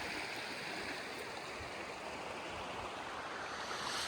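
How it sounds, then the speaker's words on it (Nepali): A large, swollen river swollen by rain rushes past a campsite in a steady, loud, unbroken roar of broadband water noise with no talking. "यस्तो दामी ठुलै खोला रहेछ यहाँ खोला भने खोला त होइन यो नदी जस्तै रहेछ"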